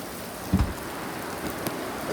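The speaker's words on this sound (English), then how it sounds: "It is pouring rain." Heavy rain pours steadily outside during a severe thunderstorm in Tennessee, a dense broadband wash with a few low thumps and brief louder spatters, with no voices.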